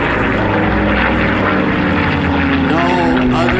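A P-51 Mustang propeller fighter flies a slow roll, its loud piston engine roaring steadily close by, with the engine note bending upward near the end as the aircraft turns.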